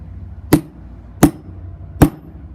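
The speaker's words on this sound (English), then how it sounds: "take a sledgehammer and just" A sledgehammer drives an anchor down with three sharp, evenly spaced metallic strikes about three-quarters of a second apart, each ringing briefly before a quiet pause.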